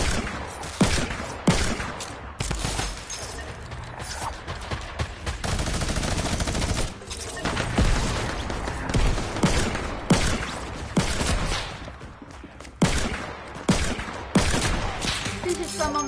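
Rapid bursts of Fortnite Creative gun game gunfire crackle continuously, with dense volleys and short pauses, loud and close throughout.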